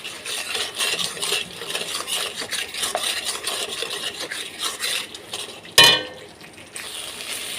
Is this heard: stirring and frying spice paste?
yes